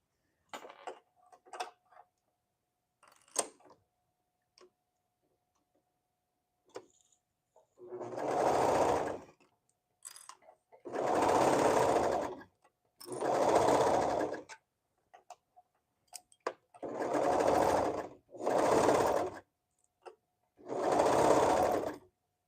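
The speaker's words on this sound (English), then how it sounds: "now I can sew my back on" A sewing machine stitches the back panel onto a hoodie, running in six loud bursts of about a second each, separated by short pauses, after a stretch of faint clicks and handling.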